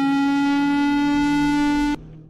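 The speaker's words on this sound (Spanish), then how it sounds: "Lion King. Un aullido grave y prolongado que parece sacado de una película de terror." A Lion King siren sounds a steady, loud, low sustained wail that holds one pitch and then cuts off abruptly, with no voices.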